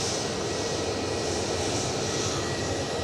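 Jet airliner powered by Rolls-Royce RB211 engines at Edinburgh Airport, a steady, loud, broadband engine roar sustained throughout with no voices.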